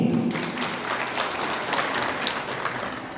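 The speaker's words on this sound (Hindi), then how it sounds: "मैं प्रोग्राम की शुरुआत में या मेरी स्पीच के शुरुआत में खुद के लिए तालियां बजाऊंगी।" Audience at a rural women's conclave in RS Pura, Jammu, clapping in a steady, moderately distant patter that lasts the whole stretch with no talk over it.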